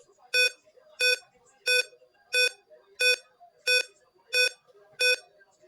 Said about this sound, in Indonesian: Ini untuk buzzernya sudah menyala ya teman-teman.